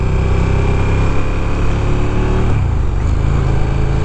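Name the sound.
KTM 1290 Super Duke R motorcycle engine on test ride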